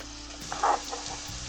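Garlic gently sizzling in melted butter in a pan, a soft steady frying hiss with a brief louder crackle partway through, close by with no talk.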